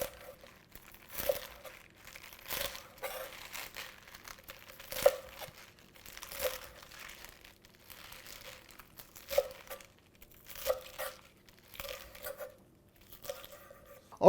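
Knife slicing Swiss chard leaves on a dish, a series of soft, crisp crunching cuts at irregular intervals, close and quiet, with no talking.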